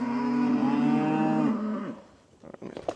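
Cattle on a hay farm let out a long, loud, drawn-out moo close by, which then fades into scattered shuffling and faint sounds of movement.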